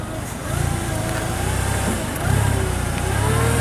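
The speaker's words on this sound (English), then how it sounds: "The mast has tilt function forward and back." Hyster S50FT LP forklift with a GM Vortec engine running as its mast tilts forward and back, a steady engine drone with faint hydraulic whine rising slightly twice.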